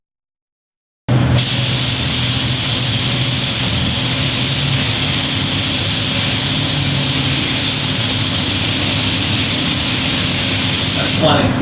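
A spray gun lays down a PChrome chrome coating onto parts, starting abruptly after a second of silence into a loud, steady, close hiss of atomized spray that holds unbroken for about ten seconds before cutting off.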